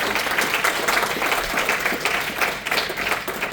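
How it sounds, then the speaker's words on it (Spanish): A church congregation claps during a sermon, a loud, close burst of many hands with uneven surges of rhythm across a few seconds, with no voice over it. "Hay un fuerte aplauso."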